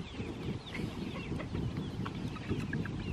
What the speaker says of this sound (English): I caught you a chicken.